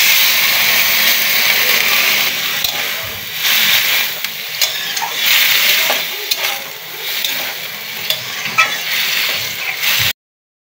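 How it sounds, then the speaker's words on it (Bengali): Potato curry being mixed and stirred in a pan over low heat, with steady sizzling and frying hiss and scraping stirring strokes throughout, fairly loud and close, with no voices. "এখন সব কিছু খুব ভালো করে মিক্সড করে নেব"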